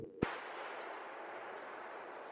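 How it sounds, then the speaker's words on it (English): A single loud, sharp report from a 350 Legend revolver firing a 150 grain Extreme Point round at close range, followed by a long ringing tail of room reverberation. "I'm shooting these at just like, I don't know, 10 feet away, 12 feet maybe. So 150 grain extreme points."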